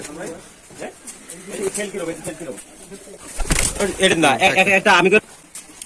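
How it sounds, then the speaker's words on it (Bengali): Rajshahi Giribaz pigeons at a farm coo and rustle nearby while people talk over them, and the birds grow louder and busier toward the end. "এখানে অনেক কবুতর আছে চলুন আমরা ভিতরে গিয়ে দেখি"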